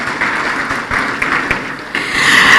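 Sustained audience applause fills a hall at an Africa heads of state energy summit in Tanzania, a steady wash of clapping that swells louder toward the end.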